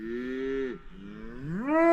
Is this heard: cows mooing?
yes